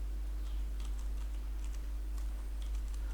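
Rapid, light clicking of typing on a computer keyboard, steady and close, over a low constant hum, with no speech.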